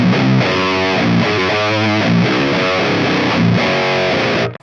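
A heavy guitar riff through a fuzzy yet tight distortion effect plays loud and continuous, dense and saturated, chugging in rhythmic bursts before cutting off abruptly at the end.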